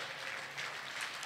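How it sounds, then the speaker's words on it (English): A church congregation claps during a prayer service, a brief, dense wash of hand clapping that is moderately distant and continues evenly. "Clap your hands and give him praise."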